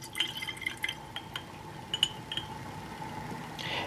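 Water poured into a glass beaker in a chemistry lab, quiet trickling and dripping with a few light glassy clinks, soft and close, ending in a brief gush.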